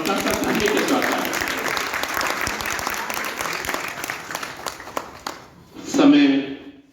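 Applause from an audience at a book launch ceremony, steady clapping for several seconds that thins out and stops, with a voice speaking briefly near the end.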